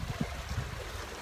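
Quiet rush of wind and water against a sailboat sailing without its engine in a steady force 4 breeze, soft wave splashes with low thumps in a continuous wash.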